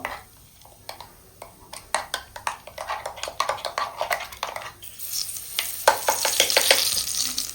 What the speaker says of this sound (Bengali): একটু নাড়া দিয়ে নেব।